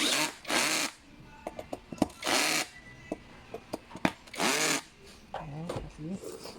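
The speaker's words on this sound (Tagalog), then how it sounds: "So we need to tighten the bolt." Power tool tightening a bolt during office chair assembly: several short whirring bursts, with small clicks and knocks between them and someone talking between the bursts.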